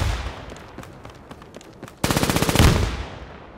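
Video game combat rings out with sparse gunshots and bursts of fire, then a loud explosion and rapid machine-gun chatter erupt and slowly fade.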